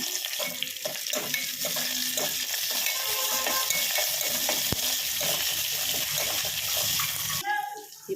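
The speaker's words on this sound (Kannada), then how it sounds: "ಈರುಳ್ಳಿ ಹಾಕ್ಕೊಳ್ಳೋಣ ಕರ್ಬೇವಿನ ಸೊಪ್ಪು ಜಜ್ಜಿರೋ ಬೆಳ್ಳುಳ್ಳಿ ಇದೆಲ್ಲ ಹಾಕಿ ಫ್ರೈ ಮಾಡ್ಕೊಳ್ಳೋಣ" Onion, curry leaves and crushed garlic fry in a pan with a bright, continuous sizzle, broken by scraping stir strokes near the microphone.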